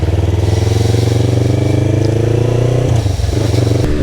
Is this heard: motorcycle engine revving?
yes